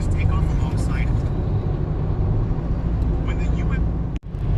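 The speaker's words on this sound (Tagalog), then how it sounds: "5 identical helicopters take off alongside it." Helicopters taking off in a group, heard as a continuous, loud, broadband engine and rotor roar that stays steady for several seconds, with faint voices mixed in underneath.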